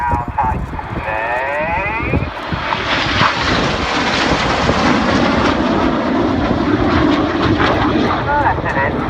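Red Arrows jets performing a flying display at the 2016 Cosford air show roar loudly and continuously, engine noise swelling and sweeping overhead while a commentator talks over it.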